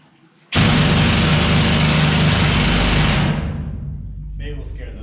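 A loud, harsh mining drill in a gold mine roars to life abruptly, grinds steadily for a few seconds, then winds down into a lower rumble.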